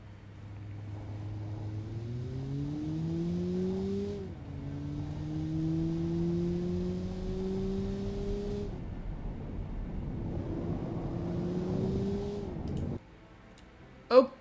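A car from the Automation car-company tycoon game runs a test-track lap, its engine rising in pitch through the gears with clear shift drops, a steady simulated drone that cuts off near the end before a brief click.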